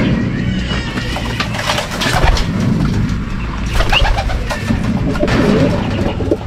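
Pigeons cooing inside a small loft, soft repeated throaty coos layered with occasional chirps and a steady low background rumble, close and continuous with no talking.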